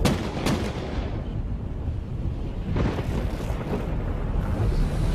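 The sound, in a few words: gunshots in a documentary reenactment of a mob shooting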